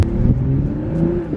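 A BMW M340i in Sport Plus mode pulls away with a rising engine drone, heard from inside the cabin, a short, steady, moderately loud burst.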